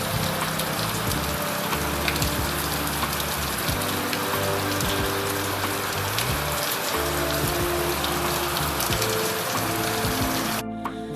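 Heavy rain pours near a waterfall, a dense, steady hiss of drops with a faint low hum beneath, staying loud and even before cutting off abruptly at the end.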